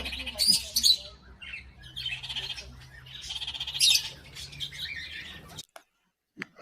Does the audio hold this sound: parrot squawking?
yes